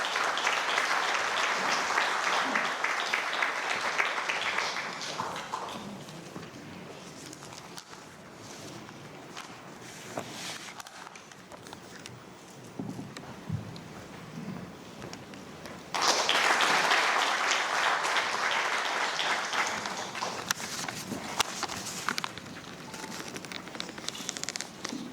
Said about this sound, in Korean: 여러분 따뜻한 박수로 맞아주시기 바랍니다.